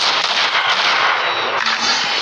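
Machine gun fire in an Area 51 video game rattles in a loud, dense, continuous burst of rapid shots, close and unbroken, with no speech.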